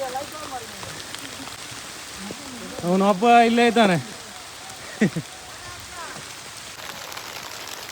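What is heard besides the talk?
rain falling during a mountain trek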